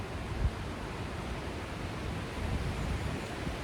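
Strong wind gusts outdoors, buffeting the microphone with a steady, rumbling roar and a few sharper low thumps, close and continuous, with no voices.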